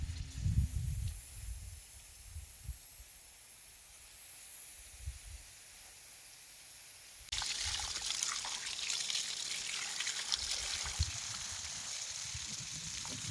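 Water running from a tap that has just been turned on at a village home while chicken is washed, a steady hiss that becomes louder and brighter partway through, with occasional low handling bumps.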